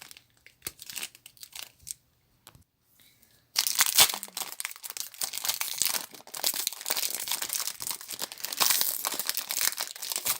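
The backing of a photo card is torn open with a few scattered rips and crinkles, then a sustained run of close, loud crinkling and peeling.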